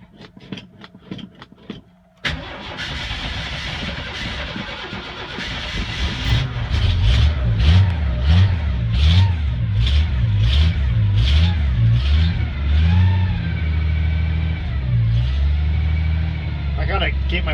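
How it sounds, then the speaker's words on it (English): A 1986 Ford F250 4x4 with a 4.9-litre 300 inline-six cranks over and catches, then settles into a loud, steady run with repeated revs rising and falling as the throttle is held open while it warms up. "I gotta keep my foot on the gas a little bit till it warms up a little bit"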